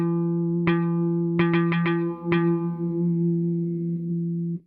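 Distorted, reverb-soaked guitar plucks: a single note, a quick cluster of four, then another, over a sustained ringing tone that cuts off abruptly.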